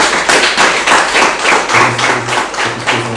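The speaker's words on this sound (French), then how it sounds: "Je pense qu'on peut les applaudir" A church congregation applauds with dense, steady clapping that comes in rolling waves, with a low hum running underneath and no voices.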